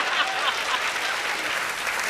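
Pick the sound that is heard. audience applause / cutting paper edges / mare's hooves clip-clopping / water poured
audience applause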